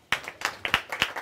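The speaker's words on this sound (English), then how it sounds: "Can we clap hands for ourselves?" An audience at a morning book launch claps hands in a few short, ragged bursts of roughly five distinct claps, fairly close and moderately loud, with no talking over them.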